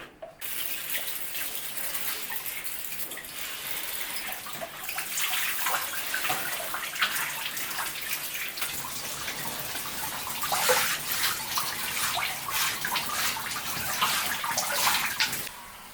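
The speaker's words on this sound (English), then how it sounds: "stay with this until all of the water is out, so tub doesn't get a unnecessary ring" Water from a bathtub running steadily as it drains, a continuous close hissing wash with small fluctuations, sustained without talk.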